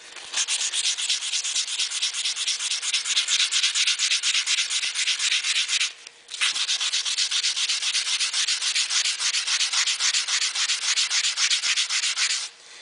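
Stainless steel car trim is sanded by hand with 240 grit sandpaper in fast, even back-and-forth strokes, a loud continuous rasping scrub with one brief pause midway, with no voices.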